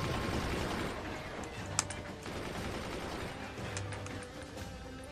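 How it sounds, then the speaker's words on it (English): Machine guns in the strategy game Forts fire a dense, continuous rattle of rapid shots under the gameplay noise, with one sharp crack standing out midway and a voice talking over the top. "I'm going to shoot with these machine guns instead"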